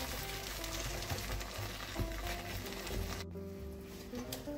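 Croquette dough with goat cheese and fried onion being stirred in a pan, giving a continuous soft sizzle and scraping texture close up, with no talking.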